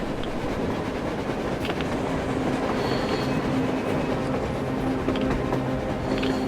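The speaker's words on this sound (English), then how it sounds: "A train! A damn train on the surface!" Steady rumble of a train rolling past in the video game Metro Exodus, with faint rhythmic wheel clatter under a windy background hiss, continuous and fairly loud throughout.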